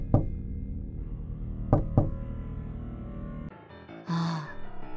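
Knocking on a wooden front door in a Japanese horror audio drama about a cursed monkey's paw: three sharp knocks, one then a quick pair, over a low droning ambience, followed by an eerie rising tone.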